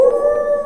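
A person imitates a dog with a drawn-out, tonal howl-like bark, a single sustained steady-pitched cry that is loud and close.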